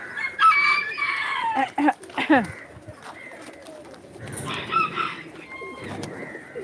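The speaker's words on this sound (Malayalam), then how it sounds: "ആണ് പ്രാവാണ് ഇങ്ങനെ കുറുട്ടുന്നത്" A male pigeon coos in soft repeated phrases, with other birds calling around it, including a rooster-like crow and some clucking.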